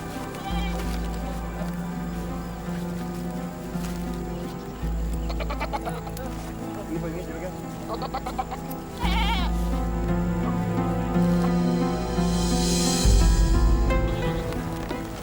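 Goats bleat again and again, loud and close, over a steady low background drone as a herd is tended in a village.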